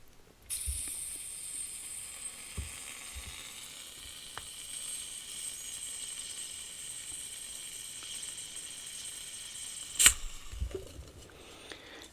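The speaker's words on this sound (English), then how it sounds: "place that right on the inlet valve, and we're just going to fill this for about 10 seconds" Compressed butane fuel hissing steadily into the inlet valve of a Zippo soft yellow flame insert for about ten seconds, a close, even high hiss that ends with a small click and faint handling.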